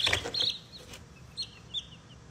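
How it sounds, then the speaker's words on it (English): Several chickens give short, faint clucks and chirpy squawks, with a louder burst at the start and a couple of quieter calls after it. "6 chickens."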